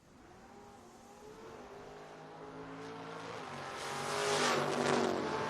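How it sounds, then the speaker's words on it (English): A 1981 Mustang and a 1967 Camaro launching at a drag strip, engines droning with rising harmonic pitch and growing louder into a harsh roar as the cars pull away, heard from a distance. "Little white hot rod will be moving out first, getting chased by Brian Lind out of Kemar, Maryland, in the 1967 Camaro."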